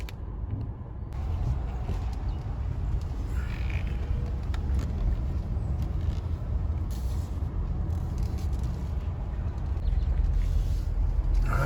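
A car after an ABS wheel speed sensor replacement, with slightly low tire pressure, rolls along the road with steady engine and road rumble from inside the cabin and a faint crow call at the start.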